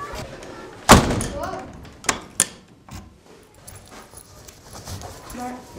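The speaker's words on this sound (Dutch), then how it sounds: "Maar waarom doet hij de deur op slot?" A door shuts with a heavy thud, then keys rattle and click in the lock in two quick bursts, while people talk around it.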